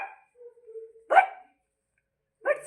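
Dogs bark outdoors in a few sharp, close bursts separated by quiet gaps, with a brief low whine in between.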